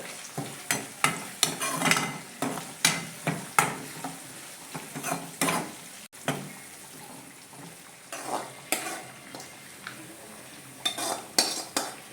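A spoon stirs avoli fish curry with chili powder and turmeric in a pan, giving a quick series of close scraping strokes and clinks over a soft sizzle, alone with no talk.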